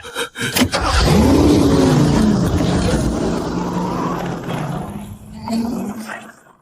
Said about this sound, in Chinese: 踩住刹车，按下那个红色的启动键